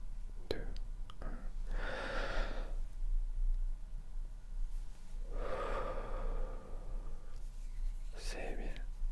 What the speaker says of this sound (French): On va commencer par une respiration.